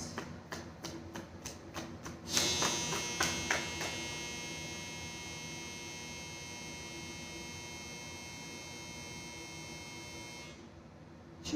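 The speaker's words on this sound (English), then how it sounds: "That's a dryer. That's the longest I've ever heard." A long, steady electronic clothes dryer buzzer drones for several seconds after some soft tapping and shuffling, then cuts off abruptly near the end.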